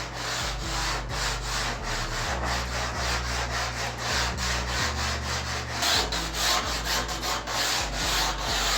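A hand tool rasps steadily along the rail of a foam surfboard blank, shaping a bevel toward the nose, with close, continuous rhythmic strokes and no talking.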